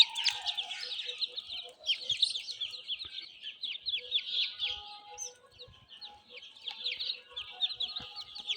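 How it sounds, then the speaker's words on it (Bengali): Desi chicken chicks cheep continuously at close range, a dense stream of high, rapid peeps overlapping from many birds, fairly loud and steady. "তো এইগুলা সবই দেশি মুরগি বাচ্চা।"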